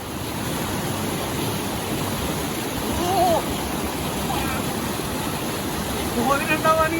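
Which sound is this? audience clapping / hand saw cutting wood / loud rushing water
loud rushing water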